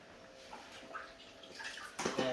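Water splashes and trickles onto a delicate kitchen stove top during cleaning, faint at first, then a louder wet spatter near the end.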